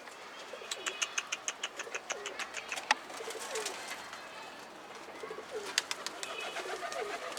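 Pet pigeons being fed: soft cooing and fluttering mixed with a quick series of sharp taps and pecks, close by, over a faint background hum.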